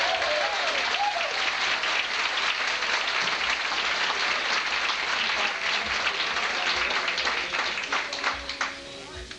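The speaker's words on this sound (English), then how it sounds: "Thank you very much, by the way, for the warm applause that y'all gave us" Warm audience applause fills the hall after a barbershop quartet, the Cincinnati Kids, is introduced at a show in Fort Dodge, Iowa: dense, steady clapping from a crowd, loud and close, with a faint voice or two underneath, tapering slightly at the end.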